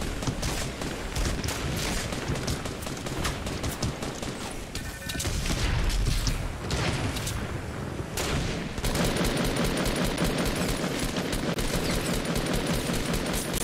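Rapid bursts of Fortnite gunfire crackle continuously, automatic weapons rattling in dense fusillades with occasional heavier booms.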